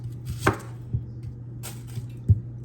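A knife chops a garden-grown red onion into rings on a board, giving three sharp, separate cuts spaced unevenly and heard close up over a steady low hum.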